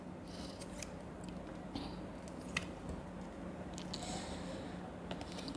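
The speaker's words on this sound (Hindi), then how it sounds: "थोड़ा सा शफलिंग में दिक्कत आ रही है" New tarot cards being shuffled by hand, a soft, steady papery riffling and rustling with faint snappy flicks, close and quiet throughout, with no voice over it.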